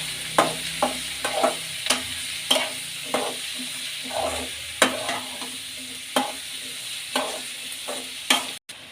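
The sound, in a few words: onions frying in oil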